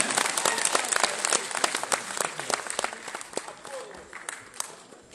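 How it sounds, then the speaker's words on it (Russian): Audience applauding at a Sagaalgan White Month celebration, a steady burst of many hands clapping close by with dense, uneven claps throughout and a few voices mixed in. "давайте поддержим Айтала, все дружно, давайте, все похлопаем"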